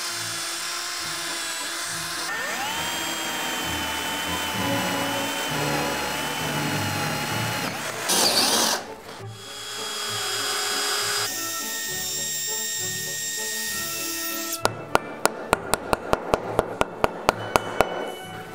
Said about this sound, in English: I'm also gonna punch these 2 holes right here to pre-drill